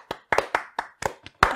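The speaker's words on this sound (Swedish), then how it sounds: "Kan vi inte ta en applåd för vår tekniker också?" A small audience at a Swedish podcast recording claps for their technician: sparse, distinct hand claps arriving one after another with short gaps, close and dry, no voices.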